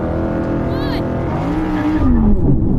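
Audi RS and R8 performance cars launch in a drag race, engines revving loudly together with a rising whine and growl that builds toward the end, with a voice briefly audible over the start.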